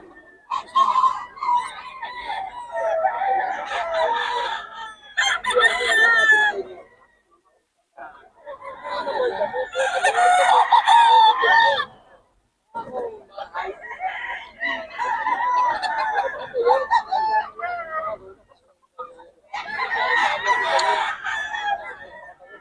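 Several roosters crow in repeated long bursts, loud and close, with short pauses between calls and other fowl clucking around them.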